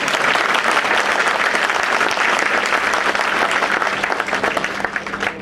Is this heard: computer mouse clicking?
no